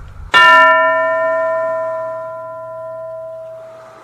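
A school bell in a cartoon gives one bright metallic strike that rings on as a long, steady, slowly fading tone with no voices over it.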